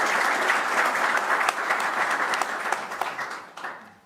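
A conference audience at Davos gives a sustained burst of applause, a dense even roar of many hands at moderate volume that thins and fades toward the end.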